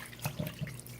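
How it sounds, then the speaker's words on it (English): Fish being rinsed under warm running tap water at a kitchen sink, a soft close splashing with a few brief louder gushes over a steady low flow. "cleaning this up with the warm water"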